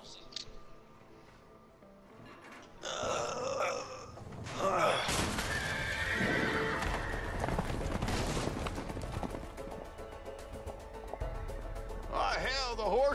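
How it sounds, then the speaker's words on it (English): Horses neighing and whinnying as they break out of a barn in the video game A Way Out, with galloping and commotion building into a loud, sustained rush; game character voices are heard throughout. "Hell, the horses are escaping"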